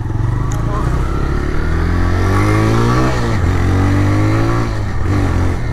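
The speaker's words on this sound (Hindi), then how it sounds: "तो गाइस एक टीवीएस राइडर बाइक पाइलम, देखी टेस्ट ड्राइव दी।" A TVS Raider motorcycle engine on a test ride, running loud and close with a steady mid-pitched drone that rises and dips as the throttle changes, plus wind rush and no talk over it.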